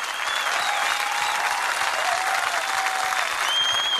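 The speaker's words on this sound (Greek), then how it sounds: "δυνατό χειροκρότημα και καλή επιτυχία." Loud, dense audience applause in a television studio during a Greek music show, a steady roar of many hands with no speech.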